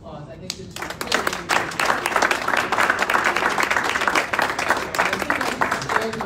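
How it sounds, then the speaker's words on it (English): Applause from an audience at a tech night panel builds quickly into sustained, dense clapping that holds steady for several seconds, with faint voices mixed in. "let's give them all a round of applause."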